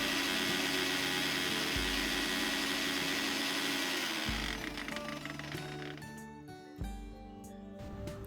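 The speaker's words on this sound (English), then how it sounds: "then you grind it" Roasted coriander seeds being ground to a fine powder in an electric grinder: a loud, steady whirring motor that runs continuously, then slows and winds down in stages with brief stops near the end.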